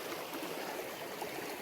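A small mountain creek on the Continental Divide Trail flows steadily, a close, even wash of running water with no talk over it.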